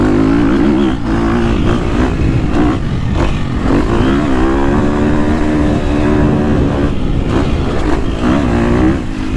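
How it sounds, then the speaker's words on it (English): A KTM 250SXF Factory Edition motocross bike's four-stroke engine revs loud and close, holding a steady high-pitched drone with throttle swells and brief dips as it climbs through the mid-range and over-revs. "And it's got the usual KTM over rev."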